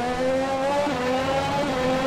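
F1 race car in F1 2021 skidding off track, a loud high engine whine with a pitch dip midway as the car slides, steady and close throughout.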